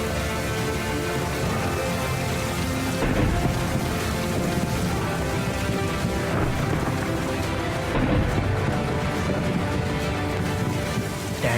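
Steady heavy rain pours throughout, with deep rolling thunder rumbling underneath and swelling in loudness at a few points.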